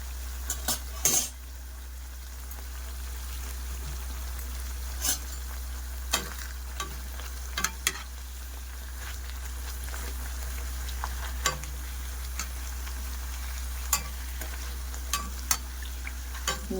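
Pheni sweets frying crisp in hot oil, a continuous low sizzle with a low hum underneath, broken by sharp metal utensil clinks against the pan at intervals.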